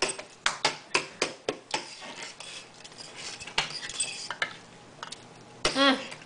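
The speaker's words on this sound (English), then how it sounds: "You're going to stir it around," A spoon scrapes and clinks against a pot as zucchini is stirred into gumbo, making a quick run of metallic knocks followed by softer scraping.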